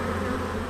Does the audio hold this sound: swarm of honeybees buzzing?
yes